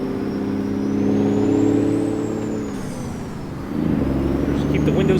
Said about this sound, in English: You just hear that turbo kicking in.